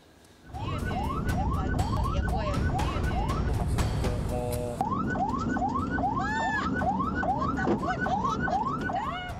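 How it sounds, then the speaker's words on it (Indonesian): A siren from a Puskesmas Cisoka health-centre ambulance carrying a woman in labour wails in repeated rising whoops that switch pattern midway. The siren is loud and close over road noise, with no talking. "pengemudi ambulan dari Puskesmas Cisoka ini telah membunyikan sirine dan klakson"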